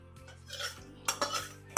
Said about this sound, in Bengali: এবার অন্য পাত্রে ঢেলে আমি ছাঁকনির সাহায্যে ছেঁকে নেব